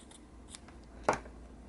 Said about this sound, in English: and then I will cut this down